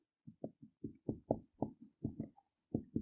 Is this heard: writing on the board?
yes